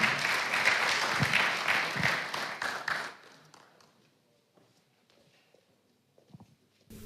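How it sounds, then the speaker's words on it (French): A conference audience applauds a presenter for about three seconds, then the clapping dies away into near silence with a few faint knocks. "Vous pouvez l'applaudir."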